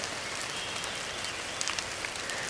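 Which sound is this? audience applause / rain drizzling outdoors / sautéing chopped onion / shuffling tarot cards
rain drizzling outdoors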